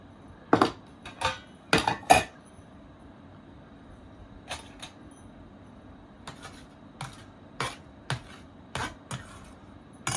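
Dishes and cutlery clink while a dinner plate is served, a run of sharp close metallic taps and scrapes in uneven clusters with quiet gaps between them.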